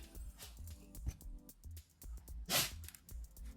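A single sharp sneeze bursts out close by near the end, set against soft handling clicks and thumps while a blue zircon beaded bracelet is made at home with dogs nearby.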